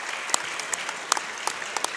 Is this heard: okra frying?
no